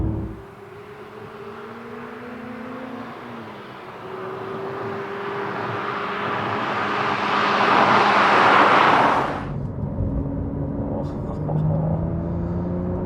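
Cabin noise inside a Porsche 911 992 GT3 with manual gearbox while driving: a steady engine drone and road roar swelling louder, then cutting off sharply as the revs drop, followed by a quieter hum.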